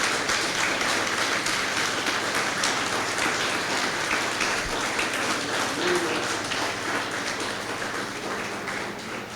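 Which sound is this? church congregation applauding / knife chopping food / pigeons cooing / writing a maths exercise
church congregation applauding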